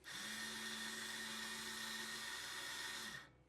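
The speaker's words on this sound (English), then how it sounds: "when I run the cordless drill" A drill press spindle spun by a cordless drill through a pulley on the spline, set up for tapered grinding, gives a steady high whine and hum for about three seconds before winding down.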